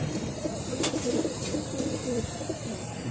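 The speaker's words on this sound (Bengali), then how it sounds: "এখন আমার হাতে যে কবুতরটি দেখতেছেন" Pigeons coo softly inside a racing pigeon loft. Low, murmuring calls run under a steady background hum, with a brief brighter sound near the one-second mark.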